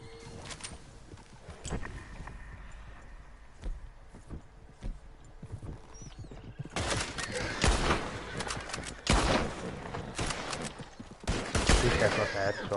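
Gunfire in the Red Dead Online video game: a volley of loud, sharp shots, some in rapid bursts, mixed with hoofbeat-like clatter and game ambience, growing denser toward the end.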